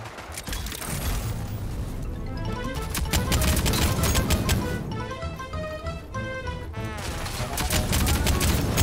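Sustained gunfire in the video game Rogue Company, a dense, continuous fusillade of shots with mechanical clatter and tonal game music or effects layered over it throughout, loud and close.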